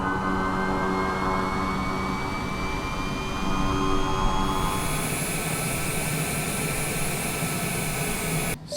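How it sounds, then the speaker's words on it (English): Aircraft engines spinning up in Microsoft Flight Simulator during a Category 5 hurricane, with rising whine tones over a steady low rumble, growing louder and fuller partway through. "we're going to go ahead and Control E it, fire up the engines."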